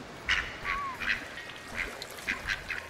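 Ducks in The Lost Crown video game give a run of short, fairly faint quacks and honks at an uneven pace, about seven calls spread over a few seconds against a quiet ambient background.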